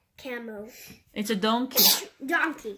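A young child sneezes once, sharply, in the middle of their own chatter while looking at an animal picture book at home with a parent.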